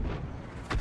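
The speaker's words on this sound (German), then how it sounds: "Los, nächster Schuss." A 105 leFH18B2 howitzer fires in a tank video game, a heavy artillery boom with a deep rumbling tail, then a second sharp blast at the end, loud and close.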